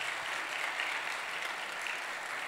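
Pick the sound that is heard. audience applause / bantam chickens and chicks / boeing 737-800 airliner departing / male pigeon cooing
audience applause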